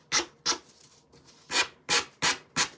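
Hand sanding with a 100/180 grit sanding block: six crisp, close rasping strokes in an uneven rhythm, loud and alone with no talk.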